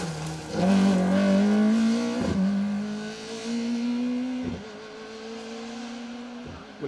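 A Vauxhall Nova rally car on an asphalt stage in Rally Ceredigion, engine revving hard and close with sharp gear changes and rising pitch, then fading as it passes.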